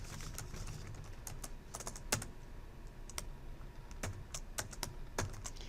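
Steady typing on a computer keyboard, quick irregular key clicks with a few sharper taps, close and fairly quiet, with no talking.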